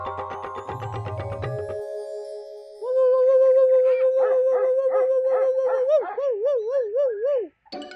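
A man imitates a dog, with quick yelping barks giving way to a long, sustained wavering howl that bends up and down before cutting off abruptly.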